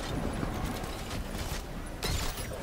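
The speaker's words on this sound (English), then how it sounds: "The elevator will go." Elevator machinery in the Batman: Arkham Knight game, a steady clanking, grinding mechanical rumble with ratcheting creaks, loud and continuous throughout with no talking.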